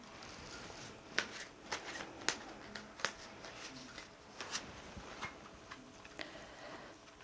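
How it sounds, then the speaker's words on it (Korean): Tarot cards being shuffled to draw a soul message card, a faint series of crisp snapping flicks in an irregular rhythm against a quiet room. "소울 메시지 카드 한 장 뽑아 보겠습니다"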